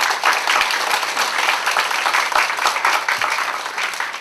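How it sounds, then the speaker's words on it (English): Graduation audience at a Hong Kong MBA ceremony claps steadily for family members, friends and spouses, a dense, even wash of applause lasting several seconds with no talking over it. "So I would like all of us to first clap for family members, friends, and spouses"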